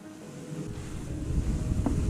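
An outboard motor pushes a new fishing boat across open water on a pike and perch outing, a steady low rumble mixed with wind buffeting and water noise, growing slightly louder toward the end.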